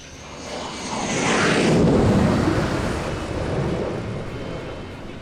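Air force aircraft flying in at the start of a mission in the war game Vietcong, a loud broad engine roar that swells to a peak and then slowly fades, with a jet-like whoosh as it passes overhead.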